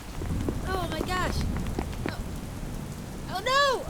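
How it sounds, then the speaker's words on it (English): Heavy rain and a thunderstorm roll on steadily outdoors, with several people exclaiming and shrieking over the downpour. "Oh no, the thunderstorm's getting louder."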